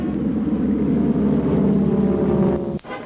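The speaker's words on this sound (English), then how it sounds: "It's over the top, John Hess from College Station, Texas, as he does a series of aerobatic maneuvers" Airplane engine droning steadily during aerobatic maneuvers at the 1986 Texas Air Expo in Waco, a continuous loud hum that cuts off sharply near the end.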